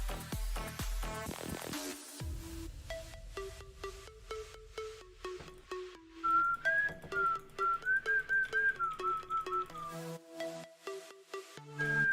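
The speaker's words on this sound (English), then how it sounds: "some days my whistling is weak, and some days it's not" A man whistles a melody for several seconds, steady and clear, over light background music. Short, rapid notes follow, and no one talks.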